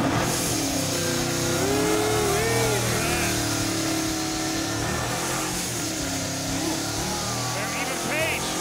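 A drag racing car roars through a burnout, its engine holding a loud, sustained rasp with rising and falling revs, while an announcer talks over it.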